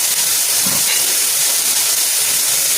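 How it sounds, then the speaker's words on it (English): A steady, loud hiss of steam from a covered pot of fish and vegetables fills the whole clip, broad and continuous, with a faint bubbling rumble underneath. "let me cover this while it steams"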